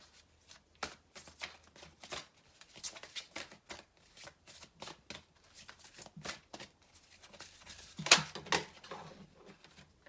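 Tarot cards being shuffled and drawn at close range, with quiet riffling and soft slaps arriving in irregular bursts and one sharper snap near the end.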